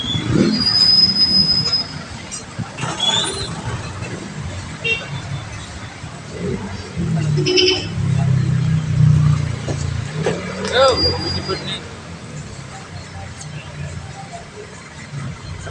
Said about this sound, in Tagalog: Masyadong matraffic dito sa Morit Street.